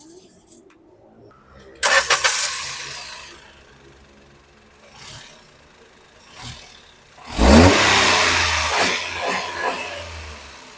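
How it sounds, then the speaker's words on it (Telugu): A Maruti WagonR sits quiet before its engine cranks and fires, bursts to a revving surge, settles, then revs loudly once more and keeps running nearby. "ఒకసారి ఇంజిన్ ఆన్ చేసి మీకు కండిషన్ కూడా ఇప్పుడు చూపిస్తానండి"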